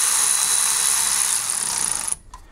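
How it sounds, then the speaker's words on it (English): A ratchet spins bolts tight on a 2006 EZGO TXT gas golf cart, giving a continuous close, bright whirring rasp that stops abruptly near the end, followed by a brief clink. "run these tight with this ratchet"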